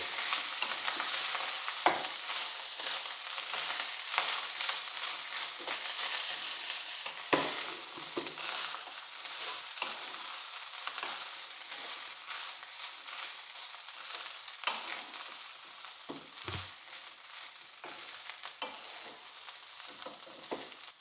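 Rice for jeera rice sizzles in a pan for a long stretch, with frequent stirring scrapes and taps scattered through a loud, continuous frying hiss.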